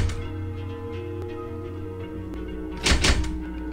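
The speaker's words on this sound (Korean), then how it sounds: "문이 열렸네요." A door in a horror video game unlocks and swings open: a dull thunk followed by a brief louder creaking burst near the end, over a low ambient game drone.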